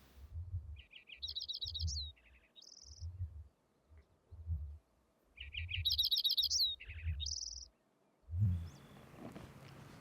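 Lincoln's sparrow singing in a bog, its bright bubbling trilled phrases repeated twice, clear and fairly close, over a steady low rumble of pulsing background noise.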